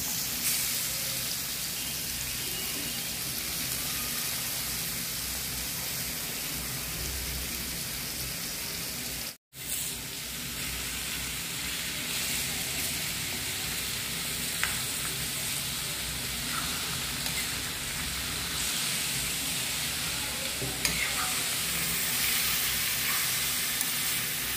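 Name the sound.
garlic and grated raw mango frying in a pan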